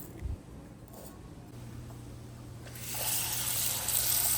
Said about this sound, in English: So I like to wash my rice about 3 times.